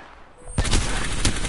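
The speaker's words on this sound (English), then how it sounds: "Opening fire." Gunfire in the video game Apex Legends: after a quiet start, a sudden burst of rapid automatic shots erupts, loud and dense, with a second strong crack near the end.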